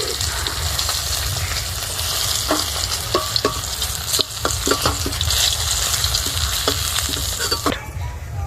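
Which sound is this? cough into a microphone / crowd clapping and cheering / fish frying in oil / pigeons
fish frying in oil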